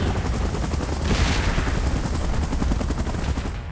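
A helicopter beats steadily and loudly throughout an evacuation scene in the PUBG Mobile Godzilla and King Kong update intro, its rapid rotor chop continuous over a dense, rumbling backdrop.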